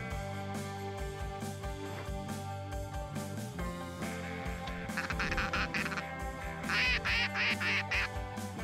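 Ducks quack repeatedly in short, close bursts during a duck and goose hunt in Saskatchewan, layered over steady background music, with the quacking growing louder toward the end.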